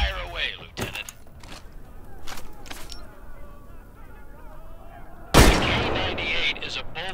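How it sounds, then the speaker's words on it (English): K98 bolt-action rifle gunfire in the VR shooter Medal of Honor: Above and Beyond, with a few sharp reports early on and one loud, close blast partway through over steady battlefield ambience. "K98 is a bolt-action rifle, so you reload by pulling and pushing the bolt after each shot."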